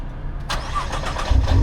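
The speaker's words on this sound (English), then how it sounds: "The GTR sounds so good." A Nissan GT-R engine fires up with a starter whir followed by a sharp catch into a deep rumbling idle, close and loud, with no talking.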